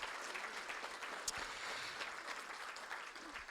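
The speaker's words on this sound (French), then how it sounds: "Je propose qu'on vous applaudisse, vous les élus de cette belle commune" A town hall crowd at a mayor's New Year address applauds its municipal councillors, with steady, fairly faint clapping from a medium-sized audience heard from some distance. The clapping goes on without a break.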